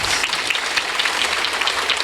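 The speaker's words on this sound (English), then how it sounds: "So let's give her a big round of applause" Loud, sustained applause from an audience at an amateur radio emergency service talk, a dense wash of clapping hands that holds evenly for the whole stretch without speech.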